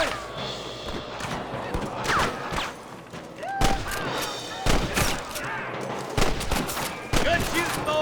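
Gunfire in Red Dead Redemption rings out in a chaotic shootout, loud cracking shots landing one after another in irregular clusters amid shouting voices and crashing impacts, close and intense throughout.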